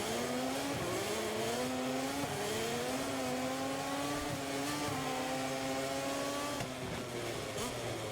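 KTM racing motorcycle engine roaring at a race start in MotoGP 24, a loud continuous whine that climbs in pitch through repeated gear shifts, with other bikes blending in a dense, steady pack.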